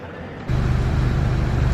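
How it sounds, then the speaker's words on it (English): Inside a moving London red double-decker bus, a loud, steady low engine rumble and road noise surge up after a brief quieter moment and hold constant. "We're now on the bus."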